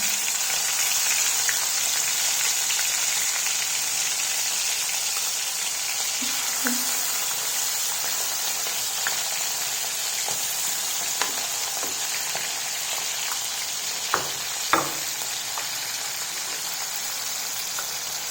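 Small batches of prawns fry in sunflower oil with a constant close hiss and a few sharper pops and spits toward the end, no voices over it.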